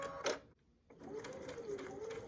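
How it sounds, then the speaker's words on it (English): A sewing machine runs a quarter-inch seam, a short burst of whirring, a brief pause, then steady continuous stitching at close range. "Take it to the machine, and I'm going to sew a 1/4 inch seam allowance"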